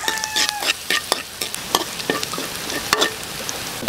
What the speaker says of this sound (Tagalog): Mainit na yan! Ilagay natin yung bawang!